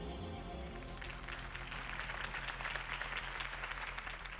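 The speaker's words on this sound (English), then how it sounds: "If only Mr. Wayne, my campaign's largest backer, could have heard that applause" A video game crowd applauds after a campaign speech, a dense, steady clapping that rises in from a quieter start and stays fairly faint, with a low hum underneath.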